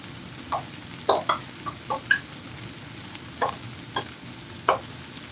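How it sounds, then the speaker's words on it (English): A utensil stirs soup in a large pot, making about a dozen scattered clinks and scrapes against the metal at an uneven pace over a low background hiss. "And stir it up."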